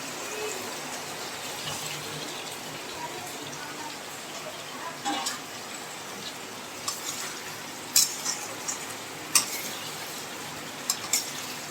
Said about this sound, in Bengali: এইবার আমি এটার মধ্যে দিয়ে দেবো আলু আর পটল